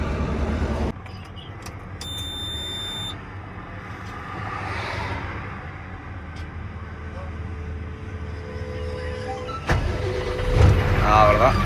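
Diesel truck engine cranking and catching after a fuel leak repair, then settling into a low, steady idle rumble, with clicks and someone talking briefly near the end.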